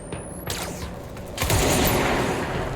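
Video game gunfire during a shooter match, with bursts of shots and booms that swell into a dense, loud volley near the end, with no talking.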